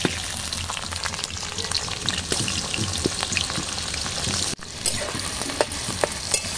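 Onions fry in hot mustard oil in a kadai with a steady, close sizzle that runs the whole time and has small pops. One brief dip comes partway through, and no one speaks.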